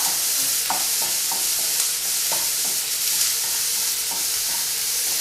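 Red onions and cumin sizzling in an extremely hot pan, a loud continuous hiss with small pops and crackles scattered through it, close and steady with no talking.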